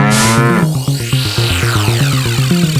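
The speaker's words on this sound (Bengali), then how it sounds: "কি চমৎকার ষাঁড়, কি নধর দেহ" A bull moos loudly and close, one long sustained low bellow that drops in pitch and wavers rhythmically, with no talk.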